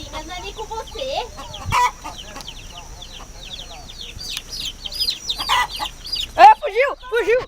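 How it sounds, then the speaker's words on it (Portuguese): Chickens cluck and squawk nearby in a rural yard, with repeated agitated calls that rise into louder bursts toward the end, while people talk over them. "Fica quieta, galinha."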